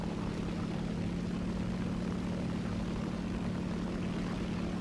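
A propeller plane engine drones continuously in War Thunder, a steady even hum with a low tonal buzz, moderately quiet and unchanging throughout.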